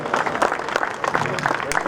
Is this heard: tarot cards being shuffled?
no